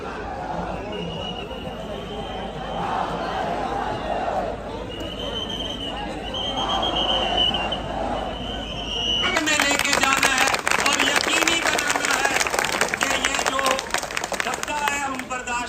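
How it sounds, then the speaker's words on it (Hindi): Large outdoor protest crowd at Jantar Mantar, New Delhi, against the Waqf Amendment Bill: a dense, steady murmur of many voices, swelling into loud clapping and cheering in the second half. "यहाँ पे बहुत ज़्यादा भीड़ है, बहुत ज़्यादा फोर्स भी है और बहुत ज़्यादा तादाद में लोग एक अलग अलग कोने से आए भी हैं।"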